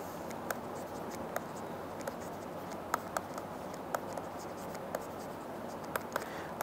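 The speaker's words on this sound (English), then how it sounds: "let me write that down" A pen scratches quick notes on paper in a run of light, irregular strokes and taps, close and fairly quiet, with a faint steady background hum.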